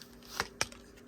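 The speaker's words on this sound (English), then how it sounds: "sometimes if you do hear me shuffle quickly in the background" Tarot cards being shuffled quickly, two crisp snapping riffles close by against a quiet room hum, with a faint softer flick after them.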